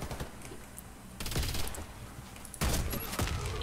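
Sidewinder rifle shots in the Warface shooter, fired from long range: a few sharp reports spaced apart over steady game background noise, with a louder burst near the end.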